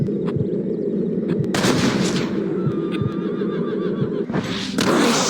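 Several sharp gunshots ring out in a bank standoff in the video game Red Dead Redemption, the loud cracks spaced over a few seconds against steady low ambient rumble.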